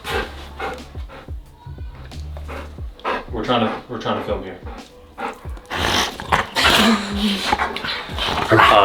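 Dogs bark, yip and whimper in an office during a baseball training company tour, short sharp calls scattered close by and mixed under steady talking.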